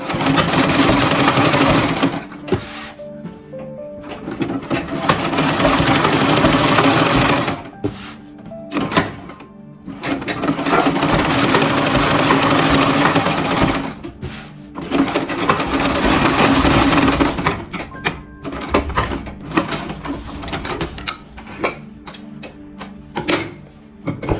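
A sewing machine stitches the second sleeve tip of a button shirt with collar, running in long steady bursts separated by short pauses, close and loud throughout.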